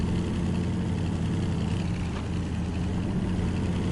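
The FD-69 TTC modded truck engine in SnowRunner runs with a steady, low, droning rumble, constant and fairly close, with no voices over it.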